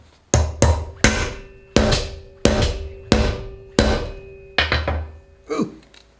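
A hammer strikes a metal shovel head about ten times in a slow, uneven rhythm. Each blow is a sharp, loud, ringing clang that decays before the next.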